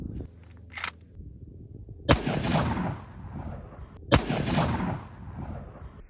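A Winchester 30-30 rifle loaded with 180-grain rounds fires at a vacuum-sealed steel water bottle outdoors. Two loud, sharp shots crack about two seconds apart, each with a rolling echo, and a faint click comes earlier.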